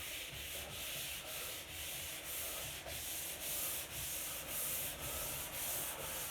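Steady rhythmic sanding of a wooden dining table, stroke after stroke in a regular back-and-forth pattern, close and moderately quiet with no voices.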